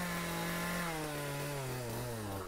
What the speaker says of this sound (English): Now I'm sure you can hear the chainsaw being started up.